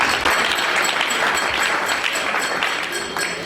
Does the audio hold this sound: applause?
yes